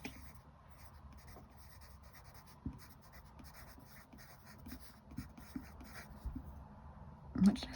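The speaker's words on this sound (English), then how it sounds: "Let's try the pencil first." A Pentel pencil scratches steadily across paper in soft, continuous strokes with small taps and rubs, close and fairly quiet, with a sharper knock near the end.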